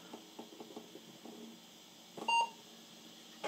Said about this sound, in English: Got a beep.